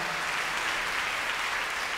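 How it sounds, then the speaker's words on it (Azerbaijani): An audience at an international opera festival applauds a student choir from the national conservatory, a dense, even wash of clapping that holds steady throughout. "Alqışlayaq gəncləri, lütfən."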